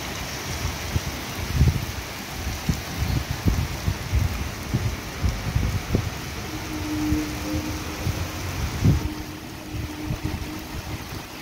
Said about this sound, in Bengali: হঠাৎ করে দেখেছো, মুষলধারে বৃষ্টি এসে গেছে